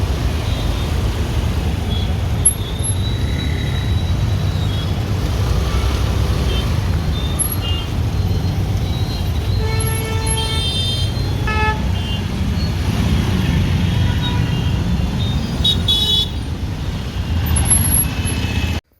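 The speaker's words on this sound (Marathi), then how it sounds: "नेहमी नेहमी ट्रॅफिक जामच असते कधी जावं तेव्हा" Heavy road traffic in a jam, dominated by a low engine rumble from trucks, buses and cars, with a few short horn toots and a hiss like an air brake heard close by over the steady din.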